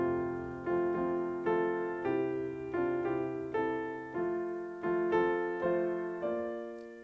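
Auld Lang Syne in its standard form on piano, plain chords struck one after another at a slow, even pace, each ringing and decaying before the next, clear and close with no talking.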